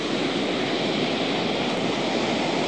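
Surf rolling onto the black sand beach at Vik in south Iceland, a steady broadband wash of breaking waves with wind, continuous and fairly loud throughout with no voices.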